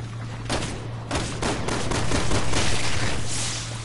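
Assault rifle fire in the Resident Evil video game, loud and close, with rapid bursts of shots running nearly continuously over a few seconds.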